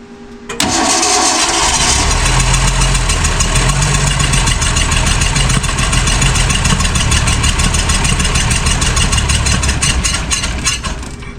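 The engine of a 1966 Ford Mustang barn find, unstarted for 40 years, cranks steadily and loudly for about ten seconds, a rapid rhythmic grinding that nearly catches but never quite fires.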